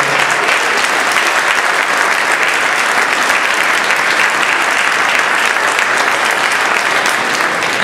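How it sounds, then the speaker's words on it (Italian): Loud, sustained audience applause at a Christmas band concert in Portacomaro, a dense, even clapping that fills the whole stretch without a break and with no voices heard over it. "ancora un forte applauso a voi"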